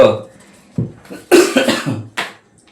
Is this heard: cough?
yes